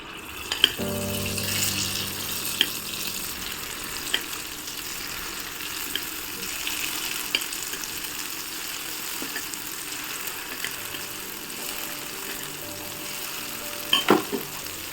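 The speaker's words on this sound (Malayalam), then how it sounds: "നമുക്കിതിലേക്ക് ഓരോ സ്പൂൺ മാവ് ഒഴിച്ചു കൊടുക്കാം കേട്ടോ" Dosa batter sizzles steadily in hot oil in a kuzhi pan for mini masala dosas, a continuous close frying hiss with a few small clicks and taps, no talking.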